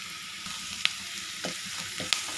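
Green chillies and curry leaves frying in hot oil in a pan, a steady soft sizzle with a few sharp pops and spatters, close and alone with no talk.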